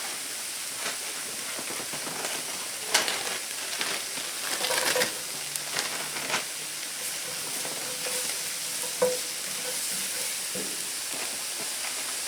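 Celery is stirred into tomato sauce in a pot, a constant hiss of simmering with scattered scraping and wet stirring knocks, close and moderately loud.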